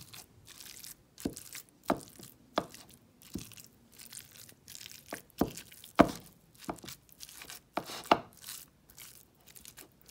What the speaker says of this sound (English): After y'all put y'all seasonings and y'all lemon juice, y'all gotta mix it.